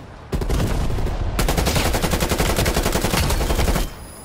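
Rapid automatic fire from a Krig 6 rifle in a Call of Duty match: a short burst, a brief pause, then a long sustained string of loud, close shots.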